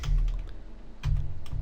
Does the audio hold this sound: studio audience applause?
no